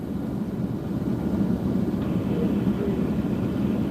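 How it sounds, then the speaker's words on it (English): A heavy-lift helicopter working a wildfire near Highway 38 gives a steady, continuous low rumble overhead, its thumping rotor blended into a dense, even drone that fills the whole stretch. "I'm hearing big heavy lift helicopter again."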